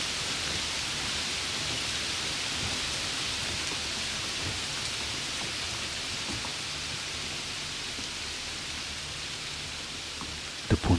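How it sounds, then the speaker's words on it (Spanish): Steady, dense hiss of rain falling continuously, with no voices, ending in a couple of brief louder taps. "La lluvia se está calmando."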